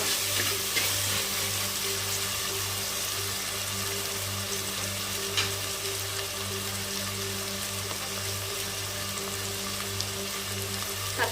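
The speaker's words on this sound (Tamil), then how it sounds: "தக்காளி நல்லா வதங்கட்டும்" Onion and tomato sauté in a pan for ridge gourd kulambu, a steady rain-like sizzle with light crackles over a low continuous hum.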